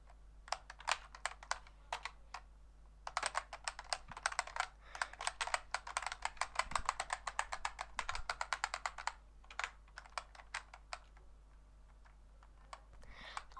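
Rapid keyboard clicking as the X and Z keys of a computer keyboard are hammered during an Undertale game, dense bursts of crisp taps with a brief pause near the start and sparser clicks toward the end.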